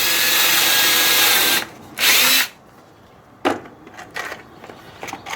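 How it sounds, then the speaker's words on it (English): A power drill bores a hole into cabinet wood to sink a screw, with a long steady whine followed by a short second burst, then a few quiet knocks. "I'm just going to drill a hole here and sink in a screw temporarily"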